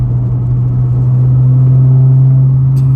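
Steady low engine drone from a BMW 435i holding around 3,000 rpm, a constant loud humming tone heard from inside the cabin with no talking.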